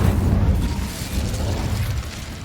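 An Incendio fire spell going off in Hogwarts Legacy as a heavy, sustained low rumbling roar of flame, loud and dense throughout with a faint hiss on top.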